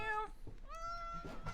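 A cat gives two drawn-out, tonal meows close by, the first short and the second longer and rising, with a soft rustle between them. No talk is heard over the cries.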